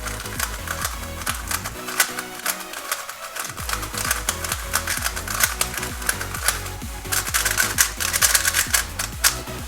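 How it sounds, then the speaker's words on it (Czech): Dayan TengYun V3 M plastic speed cube being turned by hand, a rapid run of crisp clicking and clacking layer turns, close and continuous, with a short pause early on. "Tohle to už je samotná kostka, já vám s ní sem dám rovně nějaké tahy"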